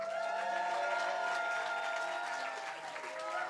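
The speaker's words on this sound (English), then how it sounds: "we're going to clap" An audience claps steadily for a contestant at a stage event, a sustained crowd applause with tonal background music and voices mixed underneath.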